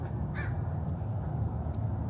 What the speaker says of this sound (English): We got the Portland crows barking at us.